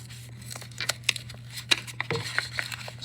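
A layer of tape being peeled and ripped off a sanding stick used for ring finishing, heard as sharp close crackling tears and clicks over a low steady hum.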